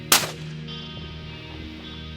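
A long-range precision rifle fires a single sharp, loud shot at the start, followed by a fading rumble of echo across open ground.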